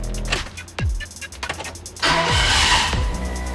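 A freshly rebuilt Mercedes 350SL engine cranks in short bursts, then catches and fires into a loud rough idle after about two seconds, close and alone without talk.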